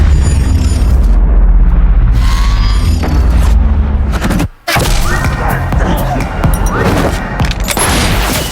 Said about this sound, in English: A gunshot sent the whole club into chaos.